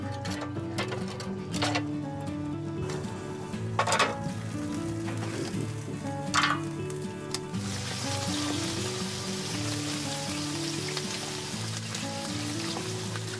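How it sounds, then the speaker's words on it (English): Scallops with a trickle of olive oil and white wine sizzling over embers, a steady crackling hiss that thickens into a denser fizz partway through, alongside a few sharp pops and a continuous background hum. "That is, scallops, a trickle of olive oil, white wine, done on embers."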